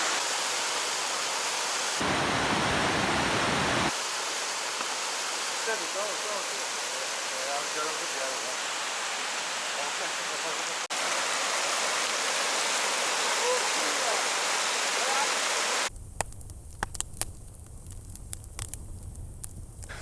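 Mountain stream water rushes steadily high in the hills near a pass, a continuous broad wash with a brief louder surge early on, ending in rougher, windy rumbling.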